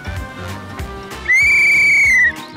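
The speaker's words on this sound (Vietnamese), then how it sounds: "Tại sao chú phải chạy tới khi còn thổi còi vậy?" One long, shrill whistle blast sounds for about a second, loud and steady, cutting through lower background noise before stopping abruptly.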